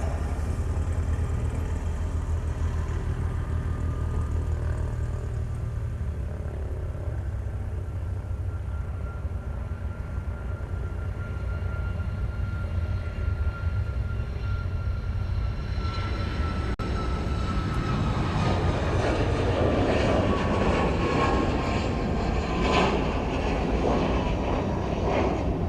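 A Boeing 737 MAX 8 airliner at Honolulu airport gives a steady, loud engine roar that swells and grows rougher in the second half as the jet nears or departs, with a rising whine. No one speaks.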